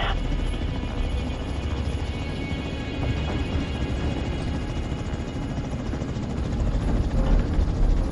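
A helicopter coming in to land in The Division 2 drones with loud, steady rotor thrum and engine roar throughout, close and continuous, swelling slightly toward the end.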